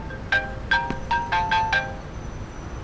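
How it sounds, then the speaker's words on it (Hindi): A phone ringtone plays a sequence of bright electronic tones, about six short pulses in quick succession, loud and clear over a faint background hiss, with no talking. "या अल्लाह, नाज़ली का फोन है।"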